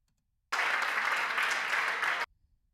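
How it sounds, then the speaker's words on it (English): A single recorded hand clap played back through editing software, heard as a sustained broadband burst that stands alone against near silence. "I know I did a clap afterwards, so I'm going to try and find that."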